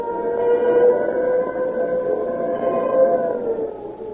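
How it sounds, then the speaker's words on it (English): A wailing siren from old radio drama, linked to police cars tearing past, rises and falls in steady pitch sweeps for the full stretch, loud and sustained with no talk. "When you hear the scream of the siren and police cars go tearing past"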